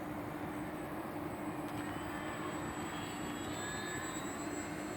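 A Sig Rascal 49-inch high-wing RC model airplane with rudder and high dihedral flies at speed, its engine a steady, continuous drone held at an even level from start to finish, with no talk.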